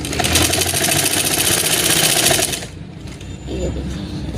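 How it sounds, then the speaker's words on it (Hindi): Sewing machine running steadily for about two and a half seconds while stitching drawstring piping onto a princess-cut kurti, then stopping, leaving a quieter room with faint background noise. "सिलाई लगा के कंप्लीट कर लेते हैं।"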